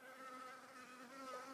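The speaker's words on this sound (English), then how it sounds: "I usually wouldn't care if a bee was in here, but he's making a lot of noise." A bee trapped inside a van buzzes in a steady, droning whine with slight shifts in pitch, close and fairly quiet, with no voices over it.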